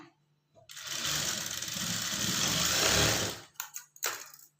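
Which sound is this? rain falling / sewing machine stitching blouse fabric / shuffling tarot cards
sewing machine stitching blouse fabric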